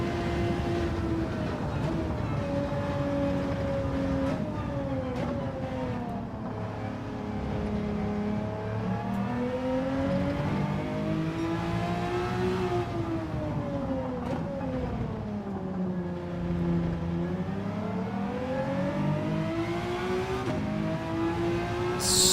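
A car engine in a racing video game revs continuously and loudly. Its pitch rises and falls in long sweeps as it accelerates through gears, with no break.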